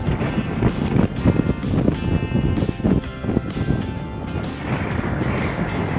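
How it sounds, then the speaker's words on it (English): Strong wind roars and buffets the microphone continuously at the top of Black Bear Pass, Colorado, with gusty rumbling swells and no voices. "Top of Black Bear Pass, and it's quite windy."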